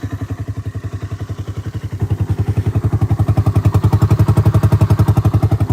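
A Honda ATC250ES Big Red three-wheeler ATV engine runs close by with a rapid, even chugging beat that grows louder and slightly faster partway through.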